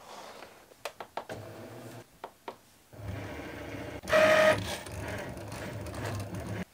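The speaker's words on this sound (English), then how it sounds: "And now I'm going to load it into the Cricut and I'm going to press cut." A Cricut cutting machine slicing premium vinyl on a mat, giving sharp intermittent clicks and whirs that settle into a steady mechanical hum with a brief louder burst, close and alone without talk.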